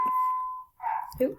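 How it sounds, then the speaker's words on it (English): An electronic alarm gives a steady single-tone beep, then cuts off. A brief voice exclamation follows. "That's my alarm, sorry about that."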